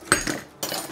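A spatula flips a potato patty stuffed with meat in a frying pan, giving a short metallic scrape and clink at the start, then quieter sizzling and a second scraping contact near the end.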